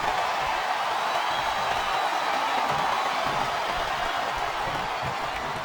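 A large crowd roars in WWE SmackDown vs Raw 2007 during a wrestling match, a steady, dense wash of cheering noise, continuous and loud with no clear individual voices.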